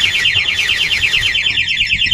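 Two-way motorcycle alarm wailing nearby in fast repeating electronic sweeps, then cutting out just before the end, leaving faint background noise.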